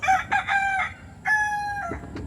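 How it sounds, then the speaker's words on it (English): A rooster crows twice, loud and close, in Marietta, Texas, with drawn-out tonal calls separated by a short pause, and a little clucking between. "Some more chickens."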